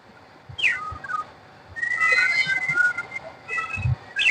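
Pet budgerigars and fantail pigeons on a balcony make bright whistling chirps in short bursts with gaps between them. Soft low thumps and faint coos sound underneath.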